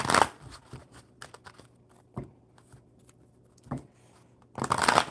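A deck of playing cards gets shuffled close by, louder riffling bursts at the start and end framing a few isolated soft taps and flicks in a quiet room, without speech.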